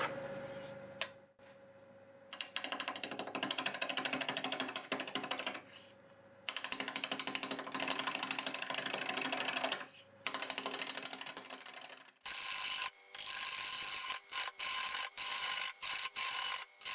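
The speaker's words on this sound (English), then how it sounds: "we're going to use the 1/2-inch bowl gouge. We'll do 750 RPM." A Siberian elm crotch bowl spins on a wood lathe at 750 RPM while a 1/2-inch bowl gouge cuts it, making a steady loud rasping, ticking hiss with a faint whine. The cut breaks off briefly several times, then continues in choppy stretches.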